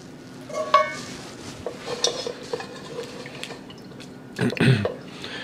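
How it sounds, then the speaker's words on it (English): Cooked garden tomatoes mashed with a dipper and pushed through for soup, giving soft wet scraping and clinking of utensil against a pot, with a louder burst of clatter near the end. "Just work it and mash those tomatoes."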